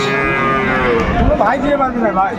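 A young cow, not yet with adult teeth, moos loudly and close by with a long, wavering call at a cattle market in Aftabganj, Dinajpur, where improved-breed dairy cows and calves are sold; constant crowd noise runs underneath.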